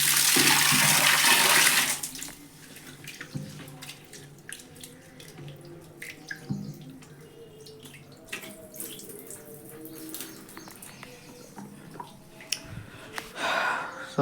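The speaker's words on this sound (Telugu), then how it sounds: "రైస్ నీట్గా క్లీన్ చేసుకోవాలి." Basmati rice being rinsed and cleaned in water: a loud rush of running tap water for the first two seconds, then quieter, intermittent splashing and swishing of grains in the water.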